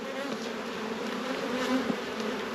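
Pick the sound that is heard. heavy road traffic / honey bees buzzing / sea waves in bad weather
honey bees buzzing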